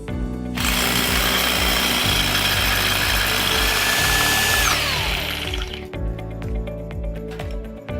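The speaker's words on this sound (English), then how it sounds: "Now we know the depth that we want to drill these two holes." Power drill fitted with a masonry bit boring two holes through a drill jig for a carbon protector install, a loud continuous grinding whine with steady low thumping, winding down near the end into a slower pulsing rattle.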